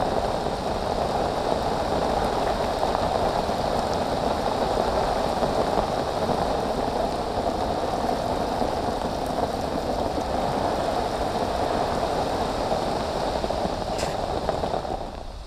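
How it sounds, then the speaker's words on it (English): Steady rain falls at a carp fishing lake in France in October, a constant dense hiss of drops with no talk and a faint click near the end. "Still plenty of rain coming down."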